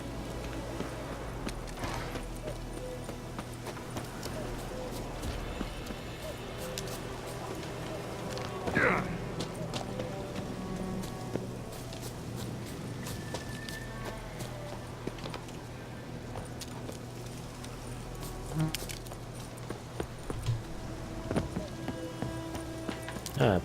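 Horse hooves clop along at a gallop in The Witcher 3 beneath steady background music, with a person talking over it.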